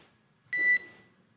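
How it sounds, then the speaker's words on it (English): A single electronic alarm beep sounds aboard a SpaceX Dragon capsule after splashdown, a short steady two-tone tone lasting about a quarter second, clear and alone against quiet background. "There is a chance that we get a lot of alarms."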